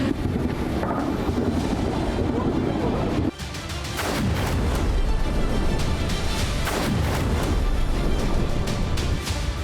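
Heavy bombardment during an Iranian missile attack on Bahrain: a dense, continuous roaring rumble with repeated booming bursts, briefly dipping near the three-second mark before building again.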